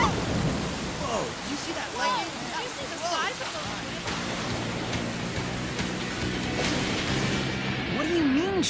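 A cartoon thunderstorm with heavy rain pours steadily as a dense hiss, with rumbling thunder underneath and brief whistling tones and voices mixed in.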